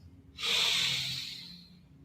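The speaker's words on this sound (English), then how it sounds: "Take a deep breath in through your nose." A deep breath is drawn in through the nose during a live yoga flow session, one long, close, hissing inhale that swells and then slowly tapers off.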